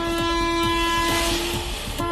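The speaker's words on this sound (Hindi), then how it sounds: "रेलवे फाटक क्रॉस करते समय एक ट्रक ट्रेन की चपेट में आ गया" A train's loud, sustained horn blares at a railway crossing where a truck stands partly on the track. The rhythmic clack of wheels runs underneath, close and without voices.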